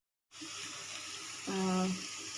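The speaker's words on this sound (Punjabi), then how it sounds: "ਬਿਲਕੁਲ ਹਲਕਾ ਜਿਹਾ ਆਪਾਂ ਪਾਣੀ ਐਡ ਕਰਾਂਗੇ" A small splash of water is poured into a pan of frying turmeric, chili and coriander masala, giving a short gushing pour with a brief voice-like tone briefly over it.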